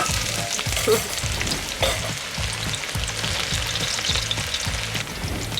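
Onions sauté in hot oil in a pan with a loud, continuous sizzle, broken by a regular rhythm of stirring strokes roughly twice a second.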